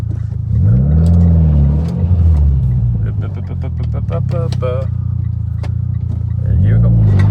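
A car on new Toyo tires accelerates hard, its engine rumbling loud and steady with rising revving tones that return near the end, heard from inside the vehicle.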